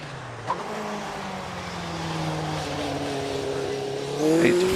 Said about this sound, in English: lots of driver aids like active yaw control on that Mitsubishi Evo 6. Looking very planted as it goes up through the S's as well.